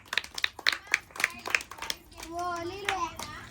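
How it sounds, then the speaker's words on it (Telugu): Children and adults at a Sri Ganesh utsav festival gathering clap in a quick, uneven burst of sharp handclaps, while a voice and other chatter rise over the final moments. "క్లాప్స్ కొట్టాలి అందరూ."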